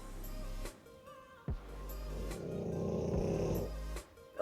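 A dog snores softly in slow, rhythmic breaths, each long rasping pull followed by a brief pause, quiet and close.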